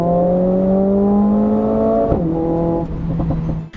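A Mercedes CLA 45 AMG four-cylinder engine holds a loud, steady, high-pitched drone that dips abruptly about two seconds in, then continues at a lower pitch before easing off.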